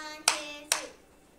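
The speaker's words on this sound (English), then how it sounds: "Kayla, clap this many times" A child claps hands exactly twice, two sharp, close slaps about half a second apart, each fading with a short ring in a quiet room.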